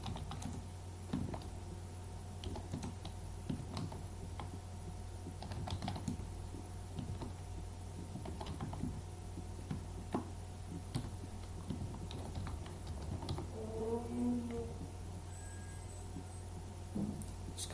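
Steady clicking keystrokes on a computer keyboard, entering data into an Excel spreadsheet, run throughout at an even pace, close and fairly quiet over a faint electrical hum.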